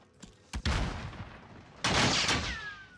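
Gunfire in the video game Warzone: two loud, sharp bursts of shots, one early and one later, each trailing off into a noisy decaying tail, with a faint high whine near the end.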